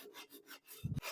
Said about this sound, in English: I will just do a little bit of sanding to the left and the right just to stress